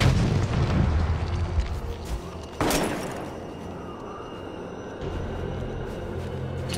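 A grenade bursts in the Resident Evil ORC video game as one sharp, loud boom with a short rumbling tail, set against continuous background gunfire and game noise.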